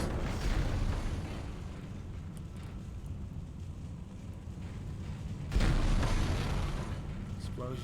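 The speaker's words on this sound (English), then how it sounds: "Explosions are always happening wherever" Heavy explosions from the sci-fi horror video game Dead Space rumble in a low, continuous roar, with a sharp, louder blast breaking in near the end.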